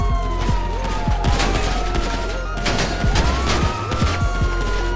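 Rapid gunfire in GTA 5 Online, repeated sharp shots in quick bursts all the way through, loud and close, with a wailing police siren rising and falling behind them.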